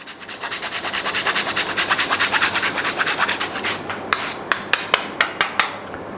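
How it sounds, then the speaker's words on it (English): A block of parmesan cheese is grated for bread dough, a close rhythmic rasping of quick strokes that then slows into a few separate scrapes, each ending in a small knock. "I've got 50 grams of parmesan cheese, which I'm going to grate into that as well."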